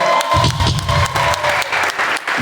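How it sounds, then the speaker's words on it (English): A crowd claps and cheers at a Christian rock concert held in a church, giving a loud, dense burst of applause with some lower-pitched rumble mixed in. "I want to have a huge round of applause for Pastor for letting us use some fire in here."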